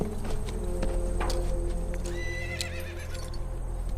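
A horse whinnies with a rising and falling neigh, accompanied by a few scattered hoof clops over a low steady background hum.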